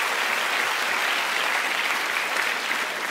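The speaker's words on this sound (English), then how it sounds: "Round of applause if we can," A live studio audience on a televised talent show claps steadily for a pair of junior Latin dance champions, a dense, even wash of applause filling the room without a break.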